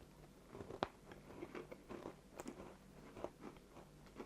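Someone bites into and chews a crunchy, dry Cadbury Oreo cookie close to the mic, with a sharp initial crack followed by a steady series of soft crunches, quiet and without speech.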